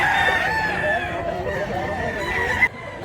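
A two-year-old golden rooster at a Mantalungon, Cebu market crows through a noisy outdoor setting, its drawn-out call fairly close over a dense background of crowd and clutter.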